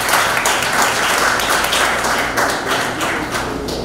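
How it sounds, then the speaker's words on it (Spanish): An audience at a university research presentation claps loudly and steadily, a thick continuous patter of many hands with a few sharper nearby claps standing out, and no one speaking. "recibimos con un fuerte aplauso a Nuria Yamilet Luna"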